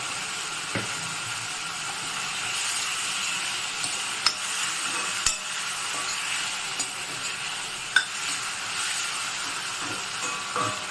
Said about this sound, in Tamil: இப்போ தக்காளி நல்லா வதங்கணும்